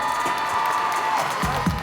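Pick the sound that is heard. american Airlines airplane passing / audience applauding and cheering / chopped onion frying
audience applauding and cheering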